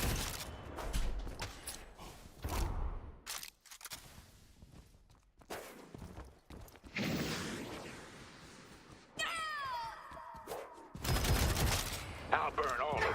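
Gunfire crackles in bursts in the video game Deadlock, mixed with footsteps, impacts, ability effects and game voices.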